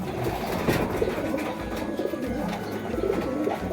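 Racing pigeons cooing and fluttering in a loft, a steady bed of soft bird calls with clustered coos throughout, fairly close and continuous.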